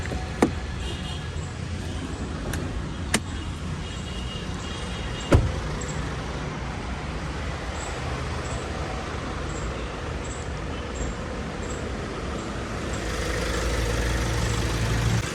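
MG Gloster 2-liter twin turbo engine idling with the engine bay open, a steady low rumble throughout with a few sharp clicks and a slight rise in level near the end.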